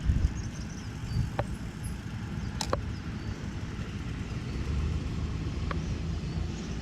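A car drives along a road beside a recreational trail during a recumbent bike ride, giving a steady low rumble mixed with wind noise, with no talking.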